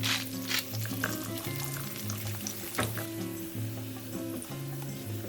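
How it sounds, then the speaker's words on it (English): Two cups of water poured into a pan of garlic, chili and oil simmering for one-pan pasta, a soft splashing pour over a low sizzle, with faint kitchen clatter and a steady background hum. "Now pour in 2 cups of water"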